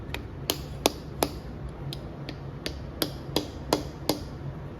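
Alignment dowels are tapped into a C7 Corvette engine block for the cylinder heads, giving about a dozen sharp metallic hammer taps in a quick, uneven rhythm over a low background hum.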